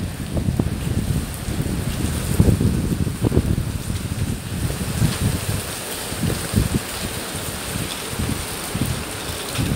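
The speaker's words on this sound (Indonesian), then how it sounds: "hujannya gede banget, anginnya kenceng" Steady broadband hiss of heavy rain in Hong Kong with low, gusty rumbles of strong wind buffeting the microphone throughout, no voices.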